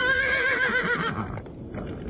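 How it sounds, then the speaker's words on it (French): Frightened horses whinny loudly and close by, a wavering high neigh sliding and fading over about two seconds, with faint hoof shuffling beneath. "On dirait que les chevaux ont peur."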